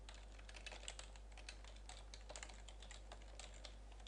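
Someone types on a computer keyboard, a fairly quick run of light, close key taps over a constant low electrical hum.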